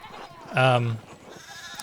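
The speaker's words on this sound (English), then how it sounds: "we need to get these sheep under control" A sheep in the medieval narrative game Pentiment gives one loud, harmonic bleat lasting about half a second, with quiet game ambience and faint background speech around it.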